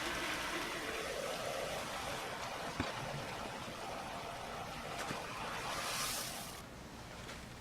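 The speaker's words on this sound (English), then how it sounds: "I'll go ahead and fill this container here with some liquid nitrogen" Liquid nitrogen pours into a container with a steady rushing, bubbling hiss that keeps on for several seconds and brightens into a sharper hiss near the end, close and fairly faint.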